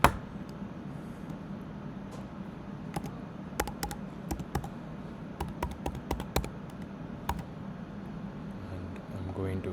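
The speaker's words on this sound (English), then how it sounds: "I'm going to type in my email address over here" Someone types an email address on a computer keyboard: sparse, quiet clicks come in irregular clusters over a low background hum, close by and without talk.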